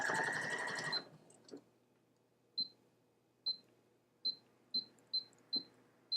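A bernette b38 sewing machine stitches in a short, busy whir, then falls quiet apart from a series of sharp clicks and short electronic beeps spaced about a second apart.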